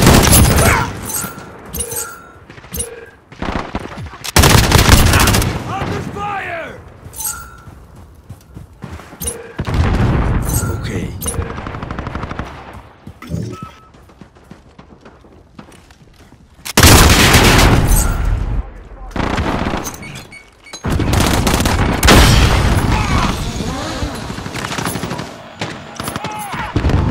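Bursts of automatic gunfire and explosions from a Modern Warfare 2019 match come in loud, dense volleys separated by quieter stretches, with occasional game voice lines among the shooting.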